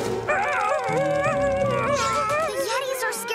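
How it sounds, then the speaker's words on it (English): Cartoon yetis howling in loud, wavering voiced wails that rise and fall, several overlapping howls with a whimpering, canine-like quality, accompanied by a background musical score. "We heard howls. Unhappy howls?"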